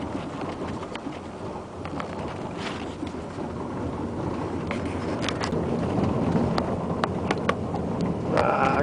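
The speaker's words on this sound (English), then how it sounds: "I guess we're gonna go down this gravel road" A car driving down a bumpy gravel road, with steady low rumbling road and engine noise, wind buffeting, and occasional sharp knocks and rattles from the uneven surface.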